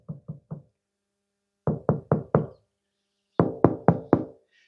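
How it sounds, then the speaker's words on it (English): Knuckles knocking on a full 5,000 litre water tank: three light raps, then two firmer sets of four dull, resonant thuds with pauses between, close and clear with no talk. "the best way to check a tank like this for fullness is to knock on it"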